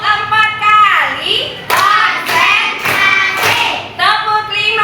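A group of children in a classroom claps hands four times in an evenly spaced sequence of loud, close claps, set between bursts of their chanting voices.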